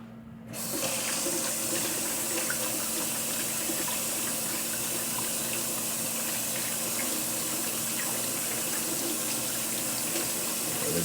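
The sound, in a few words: washing hands under running tap water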